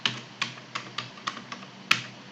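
Computer keyboard keys typed one at a time with even spacing, about seven crisp, close clicks, with a sharper final keystroke in a quiet room.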